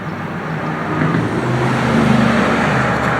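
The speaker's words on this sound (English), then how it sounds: "Traffic is terrible." Road traffic rumbles past near a backyard vegetable garden, a steady broadband wash of car and truck noise swelling slightly, moderately loud with no voices.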